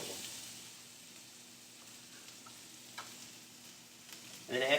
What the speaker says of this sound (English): We're going to move everything around the pan.